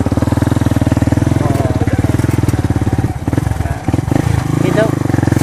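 Motorcycles on a busy road in Candelaria, Quezon, among crowds, buses and trucks; a close, loud engine throbs steadily and continuously throughout.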